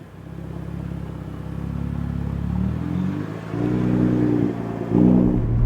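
A tuned 2011 BMW 135i with about 350 wheel horsepower driving off, its engine droning low and then rising through revs in a couple of pulls, heard from inside with no talking.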